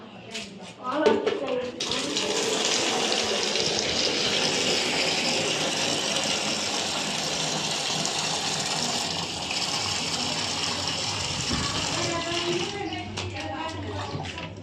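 Water gushes loudly and steadily into a bucket for about ten seconds, with people talking before the flow starts and again after it stops.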